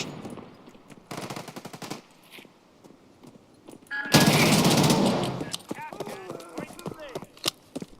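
Rapid automatic gunfire rattles in a video game shootout as ammo runs low, with bursts of shots, one loud sustained blast of noise, and scattered clicks and footsteps, while players talk.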